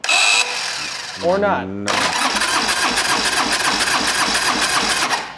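A Geico Orange County Chopper turbo motorcycle engine cranks with a rising whine, then catches and runs at a loud, rough, throbbing idle close by, while someone speaks briefly.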